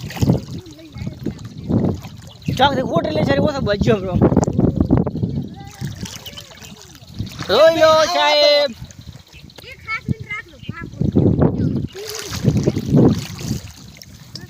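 Floodwater streams and trickles steadily close by, running under loud, frequent talking from several people.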